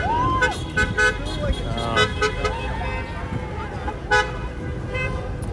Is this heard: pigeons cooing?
no